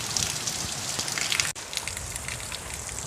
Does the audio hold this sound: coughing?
no